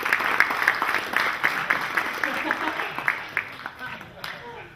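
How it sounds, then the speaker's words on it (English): A round of applause at an astronomy club meeting, a room of people clapping in a moderately loud burst that thins out toward the end, with voices mixing in. "I think he deserves at least a good round of applause."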